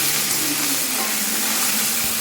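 Ginger paste fries and is stirred in a hot pan for a Bengali potol curry, a steady close sizzle with faint scraping of the spoon underneath.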